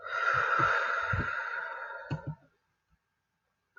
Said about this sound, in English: Another way that we can calm down is by taking deep breaths in